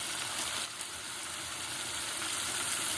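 Spice masala frying in a pan with a little water for a Bengali eggplant curry, a steady close hiss and sizzle that runs without pause, no voices over it.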